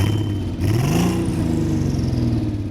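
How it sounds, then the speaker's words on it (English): A Volkswagen Golf GTI W12 with a 12-cylinder engine revs hard and steadily, a loud, dense, rising-and-falling roar sustained throughout with a brief dip near the start. "you just heard the first soundbite from the 12-cylinder engine"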